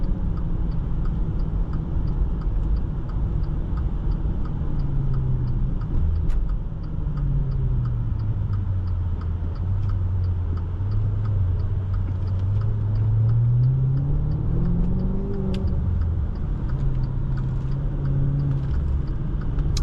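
A 2019 Maserati Levante Trofeo with a 590 hp engine driving in sport mode, its steady engine drone rising and falling smoothly as revs change, close and continuous from the cabin.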